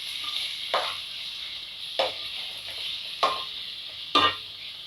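Tomatoes frying in a pan with a soft steady sizzle, broken by four spaced scraping stirs of a spoon against the pan while cooking a mushroom biryani.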